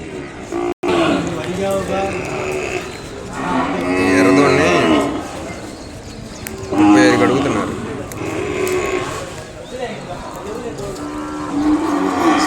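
Cattle, including young bulls and calves, moo loudly and repeatedly in long, low calls, one after another, amid the busy background noise of a crowded outdoor livestock market in Kodad.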